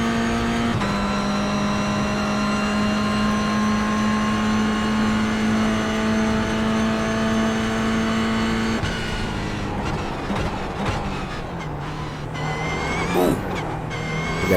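A race car in a sim racing video game drones steadily at high revs for a long stretch, then shifts and revs up and down near the end, loud and close with no talk.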